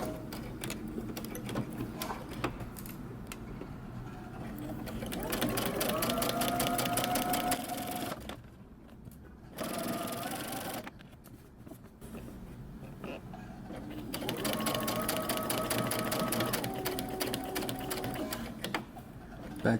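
A sewing machine runs close up, stitching near the edge of a men's button-up shirt: two long bursts of rapid, steady needle clatter separated by a short quiet pause, then resuming at the same even pace.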